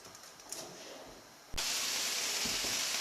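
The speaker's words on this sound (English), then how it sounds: "The spam's coming on quite nicely. I'm probably able to hear it sizzling away there." Steady sizzling of Spam in a frying pan, quieter at first, then jumping to a louder, constant crackling hiss partway through, close up with no speech.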